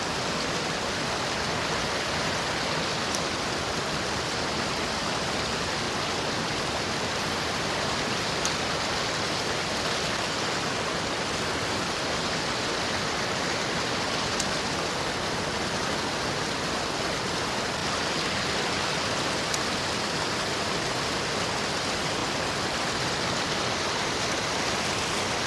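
A waterfall and mountain stream pour steadily beside a trout fishing hole, a loud, unbroken broadband rush that stays constant throughout, with no voices heard.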